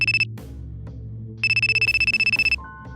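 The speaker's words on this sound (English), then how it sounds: "You should turn off your phone during business negotiations." Mobile phone ringtone going off during a tense business meeting, two loud bursts of a bright repeating electronic melody with a short pause between them, over a low background hum.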